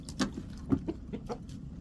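Backyard chickens and a rooster on a dairy farm cluck in short, irregular bursts at close range over a low rumbling background; no talking.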